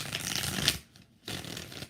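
Tarot cards are shuffled by hand in two short, close riffling bursts of papery flutter with a brief quiet gap between them.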